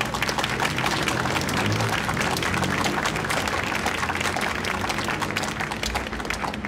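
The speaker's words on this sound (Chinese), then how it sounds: "阵线一个热情的掌声好吗？" Sustained applause from a large crowd fills an election rally, a thick wash of clapping that holds steady throughout and eases only slightly near the end.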